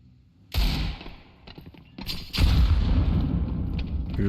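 A grenade explodes in the Counter-Strike video game with a sharp boom, followed by a second heavy blast and lingering rumble. Lighter gunshot-like pops come between them, with no talking.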